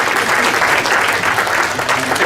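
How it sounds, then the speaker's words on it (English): Sustained audience applause at a business conference interview event, a dense steady wash of many hands clapping at constant loudness throughout, no pauses. "Let's give him another big round of applause."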